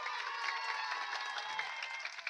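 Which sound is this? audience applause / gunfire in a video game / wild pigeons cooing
audience applause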